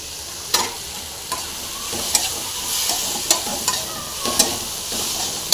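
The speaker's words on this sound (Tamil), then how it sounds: "ஓரளவு நல்லா ஃப்ரை ஆகிருக்கு இப்போ நம்ம பாவக்காயை போட்டுடலாம்" Sliced bitter gourd frying in an oily pan for a lemon fry, a constant loud sizzle with occasional sharp scrapes and knocks of a spoon stirring it, close up with no speech.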